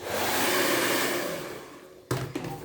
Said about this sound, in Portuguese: vou usar o secador, coloco o secador aqui dentro